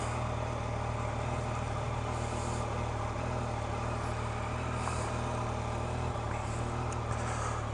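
A 2015 Yamaha FJ-09 motorcycle engine idles steadily after starting, a constant low throbbing hum with faint higher mechanical whine, close and uninterrupted.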